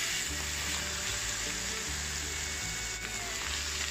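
Eggs being stir-fried in a wok with sesame oil, salt and soy sauce for osmanthus-style eggs, a steady close sizzle and hiss running continuously with faint scraping stirs, no talk.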